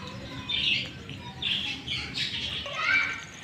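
Several pigeon squawks and calls come in short bursts close by as the pigeons bathe in the rain, with soft rustling and splashing in between.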